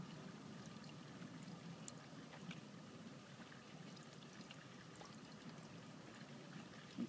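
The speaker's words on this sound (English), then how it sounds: "the pump's pumping the water to the system because I replaced my water pump" An electronic water pump on a BMW E90-series car circulates coolant to purge air, giving a faint, steady trickling and pouring flow with a low hum underneath and no voices.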